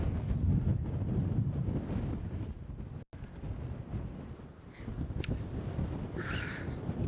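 Strong wind on an exposed hillside at the Roaches, a loud, steady rushing roar buffeting the microphone, briefly cutting out once before gusting back just as hard.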